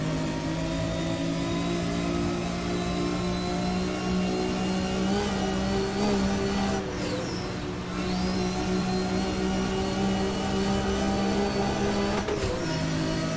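A BMW engine pulls hard down a straightaway in the racing game Assetto Corsa, a loud, steady, high-revving drone that climbs in pitch, dips briefly at gear changes, then keeps rising.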